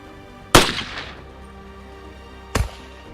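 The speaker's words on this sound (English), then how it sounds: "CNR Collector shooting his M1 turbine, scoring 9 hits in 75 seconds" Rifle fire at a shooting competition: two sharp, loud shots about two seconds apart, each followed by a brief ringing decay, with quiet background in between.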